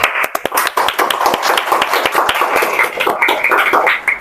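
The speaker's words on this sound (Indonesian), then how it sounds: "Wah, tepuk tangan dulu dong." A school or community audience at a children's issues talk in West Jakarta claps hands loudly and steadily, a dense close burst of individual claps lasting the whole stretch.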